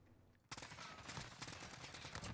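Rapid AN-94 rifle fire in Modern Warfare multiplayer breaks out after a brief quiet moment and becomes a dense, loud stream of overlapping shots and impacts that keeps going to the end.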